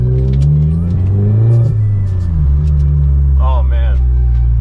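Volkswagen Golf R with a custom muffler delete, exhaust droning deep and bassy under load as revs rise and fall, turbo whistle and spool audible on top, close and loud, with brief voices chattering near the end.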